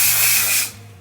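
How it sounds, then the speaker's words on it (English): Aerosol hairspray, Old Hold high hold, hisses in a steady close burst for most of a second, then cuts off and leaves a faint tail. "I'm gonna go ahead and just spray it down."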